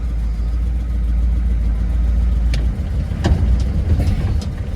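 A Ford turbo diesel truck engine runs after being restarted, a loud, close, steady low rumble with a few clanks and rattles partway through and no talking.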